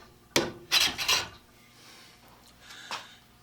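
A Stanley scraper plane drags across wood in a few short, rough rasping strokes, close and fairly loud. A fainter scrape follows after a pause.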